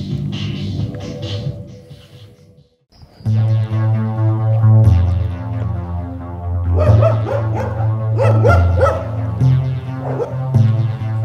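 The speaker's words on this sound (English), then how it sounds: "dogs barking" Dogs bark and yip repeatedly near a beach with small breaking waves, the barking layered over a steady droning synth bed, fairly loud and continuous after a short pause.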